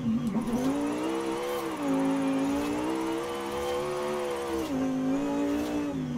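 A Lamborghini Huracan Tecnica slides sideways in Forza Horizon 5, its engine holding a loud, sustained wail that dips and climbs in pitch as the revs shift through the drift.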